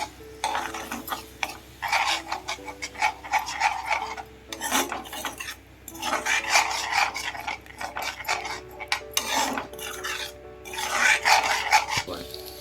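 Continuous scraping and rhythmic stirring of a utensil against a pan as four eggs are mixed briskly, with a rasping metallic texture throughout.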